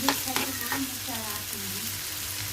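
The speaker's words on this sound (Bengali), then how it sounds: "সরিষার তেল দিয়ে পেঁয়াজ ভেজে নিচ্ছি" Onions sizzle in mustard oil in a pan as they are stirred, a close crackling hiss with a few sharp scrapes of the spoon early on, then settling into steady frying.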